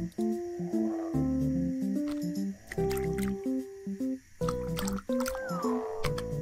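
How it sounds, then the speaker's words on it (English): Cartoonish squishy, dripping effects and plinking game music play in sequence as a fish gets cooked in a cat puzzle video game, with repeated short bursts and brief gaps. "Oh god, we are cooking the fish!"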